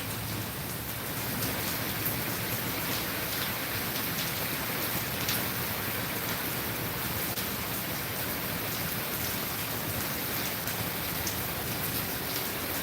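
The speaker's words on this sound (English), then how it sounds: "Can you hear the rain and thunder?" Steady rain pours down in a dense, even hiss, close and constant the whole time, with no voices.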